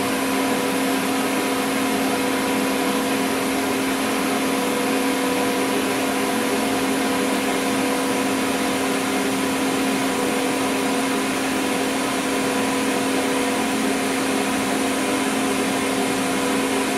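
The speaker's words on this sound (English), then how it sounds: "I'm going to be welding on the very edge of it." An R-Tech TIG 260 welder lays a bead on the thin edge of stainless razor blades, a steady continuous buzzing hiss with a constant electrical hum, loud and close, holding unchanged throughout.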